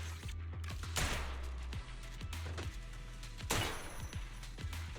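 Repeated sharp gunshots in Zenless Zone Zero, spaced in an uneven rhythm over a steady low hum of game music, fairly close and punchy with a couple of louder crashing hits.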